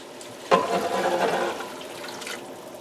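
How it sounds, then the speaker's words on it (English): Stock pours into a pot of braised beef in a splashing, gurgling stream that starts abruptly, stays strong for about a second, then tapers off gradually. "I hope I got enough stock to cover this."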